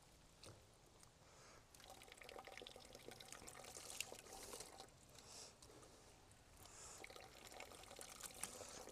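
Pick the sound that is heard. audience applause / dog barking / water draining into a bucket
water draining into a bucket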